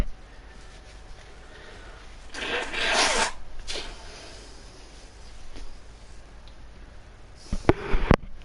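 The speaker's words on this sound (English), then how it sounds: "That's why I'm blowing my nose." A person blows their nose in two short, rough bursts, one longer honk in the middle and a sharper, snuffly one near the end, heard close over a quiet background.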